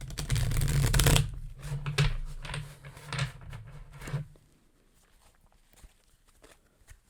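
A deck of cards is shuffled close up, with a dense riffling rush and rapid flutter for several seconds that tapers off into a few soft taps and handling noises.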